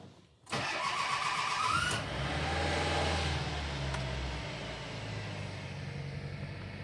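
A Mitsubishi Pajero Mini with a 20-valve engine cranks and catches after a brief silence, briefly rising in revs before settling into a quiet, steady idle that hums on alone to the end.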